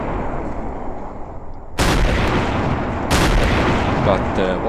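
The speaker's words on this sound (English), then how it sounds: "Now, we will be firing this ship. And these howitzers is very heavy." Heavy howitzers firing from an armored ship in the Garry's Mod ACF game produce two sudden, very loud booming blasts about a second and a half apart over a constant low rumble, each leaving a dense roaring tail.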